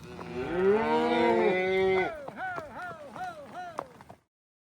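Cattle in a desert pasture, bulls among them, give a long loud drawn-out moo followed by a run of shorter rising calls, several animals bellowing close by in quick succession.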